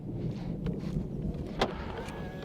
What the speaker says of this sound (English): When I walk up to the car, you'll see the door handles pop out and receive me.